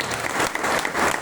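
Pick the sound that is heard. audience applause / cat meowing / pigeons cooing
audience applause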